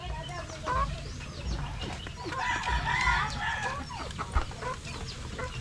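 A rooster crows amid clucking chickens in a busy farmyard, with faint voices and background noise around them.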